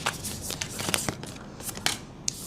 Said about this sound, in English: as I shuffle the cards and set up the whole reading